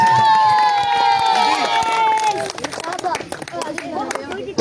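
Crowd applause and cheering at a cricket tournament prize ceremony, dense clapping and shouts with a voice over a loudspeaker at first, then thinning into scattered claps and chatter outdoors.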